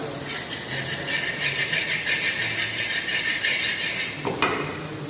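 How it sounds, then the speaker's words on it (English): Capsicum, cabbage and mushroom sauté in a pan for a classic club sandwich, giving a steady, even hiss throughout, with one sharp clink of a utensil near the end. "Basically I am sauteing all the ingredients."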